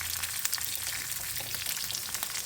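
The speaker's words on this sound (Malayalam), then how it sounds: "എണ്ണയിൽ കിടന്ന് നന്നായിട്ടൊന്ന് വാടി കിട്ടണം" Green chillies fry in oil for a Kerala curd pulissery, giving a steady close sizzle with fine crackling pops over a low hum, unbroken for the whole stretch and with no talking.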